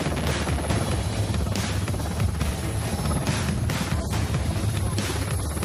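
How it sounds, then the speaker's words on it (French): Military helicopter battling strong mountain wind while trying to touch down on a slope, its rotor a loud, steady close-up thrum with wind buffeting throughout and no voices. "le vent déséquilibre l'hélicoptère qui a du mal à toucher le sol"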